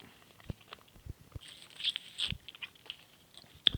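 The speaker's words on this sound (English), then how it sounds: "I usually end up chewing them up." Someone crunches Ricola herbal cough drops between the teeth, giving soft close crackling bites and a few louder crunches in a quiet room, with no talking.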